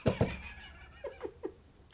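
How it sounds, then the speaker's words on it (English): An unhappy indoor cat complains with a short series of brief, plaintive meows, close and fairly loud, following two sharp knocks at the start. "The cat is not happy. He's just in there complaining."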